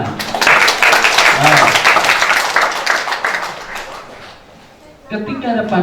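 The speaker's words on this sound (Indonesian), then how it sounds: "Tepuk tangan buat Tuhan." A church congregation claps together during a 2022 Christmas cantata celebration, with several seconds of steady applause under a speaking voice. The clapping fades and the voice continues alone.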